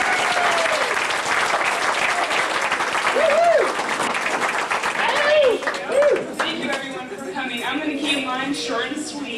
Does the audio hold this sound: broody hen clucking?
no